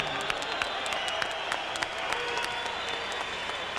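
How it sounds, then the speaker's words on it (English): A boxing arena crowd applauds after a TKO stoppage in the eighth round, loud, dense clapping filling the hall steadily throughout, with scattered sharper claps standing out. "A round of applause, please,"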